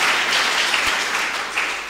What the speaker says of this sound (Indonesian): Tepuk tangan yang meriah dulu dong.